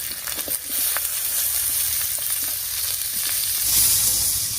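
Chopped onion goes into hot oil already holding black cumin, green chili and garlic, setting off a loud, close, continuous sizzle with a few soft stirring scrapes and a brighter hiss near the end.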